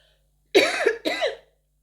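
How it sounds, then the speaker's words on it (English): Two harsh, explosive coughs in quick succession, close and loud, with silence before and after. "then I cough out of nowhere"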